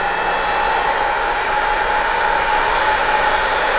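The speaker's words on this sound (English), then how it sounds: "I've had this Craftsman industrial heat gun for 2 decades at this point." A Craftsman industrial heat gun on its low heat setting blows a steady, loud, even whoosh of air that continues without a break.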